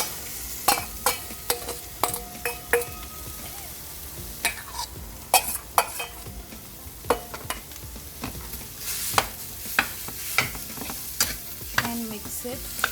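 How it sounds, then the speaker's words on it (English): Mashed potatoes frying in oil for dabeli filling, with repeated scraping and stirring clatter over a steady close sizzle, sharp utensil strikes recurring every half second or so throughout. "And just fry with the oil, and in that I'm going to add the mashed potatoes."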